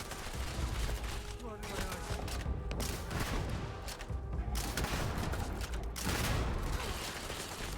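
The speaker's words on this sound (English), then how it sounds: "Just shoot everything!" Sustained gunfire in the game Starfield, dense rapid volleys of shots blasting almost continuously with brief lulls, loud and close, with voices talking over the shooting.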